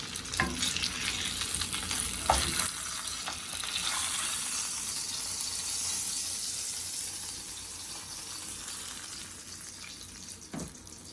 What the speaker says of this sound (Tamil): அடுத்த ஃபிஷ்ஷையும் நம்ம ஃப்ரை பண்ணி எடுத்துக்கலாம்.